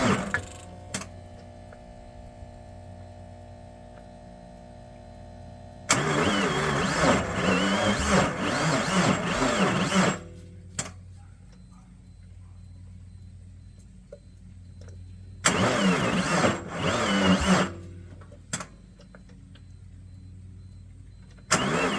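Suzuki car engine cranking on a jumper box: two bursts of rough starter cranking and sputtering engine noise separated by near silence, with faint clicks and a steady background hum.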